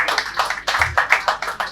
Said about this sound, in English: Round of applause for Nexim